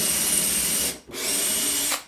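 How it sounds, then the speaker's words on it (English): A power drill bores a hole for a homemade vinyl record shelf, with two loud, steady whirring runs and a brief pause between them. "I'm gonna sit here. and keep this down firm flat, and then I'm gonna drill my hole."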